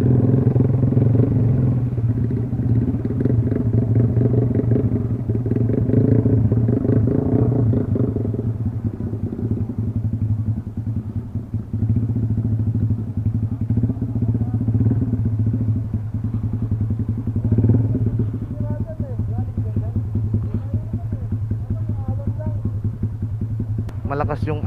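A motorcycle engine rumbles steadily through churning water, with splashing and clatter throughout and occasional voices under the noise.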